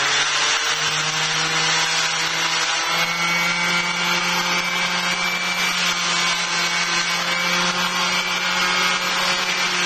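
Battery-powered sander working 2x4 picnic table wood: a steady, loud whirring buzz with a constant motor tone, continuous and close, no voices.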